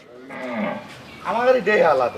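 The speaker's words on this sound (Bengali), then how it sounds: "এই গরুটি" A cow moos twice up close, a drawn-out low call followed by a second, louder one.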